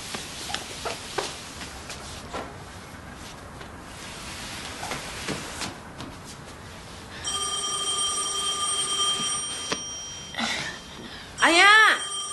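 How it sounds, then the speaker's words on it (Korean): A telephone rings with repeated electronic trills in the second half of the scene, following scattered voices and movement sounds, ending in a brief burst of clatter. "아 전화 좀 받아봐!"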